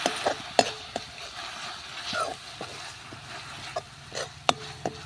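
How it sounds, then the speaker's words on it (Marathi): A spatula scrapes and taps in a pan as vegetables are stir-fried with soy sauce and red chili sauce for veg manchurian on a traditional wood-fired stove, giving scattered metallic clinks over a faint sizzle. "आता एक थोडंसं आपण परतून घेऊया."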